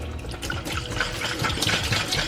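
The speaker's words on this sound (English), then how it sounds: "Just want to get all the water out." Water sloshes and splashes in quick, irregular bursts up close as water is shaken out of a sprouting jar.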